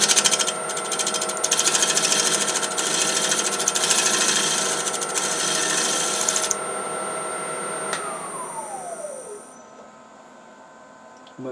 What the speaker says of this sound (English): So let me get the lathe set up and get this recess fixed.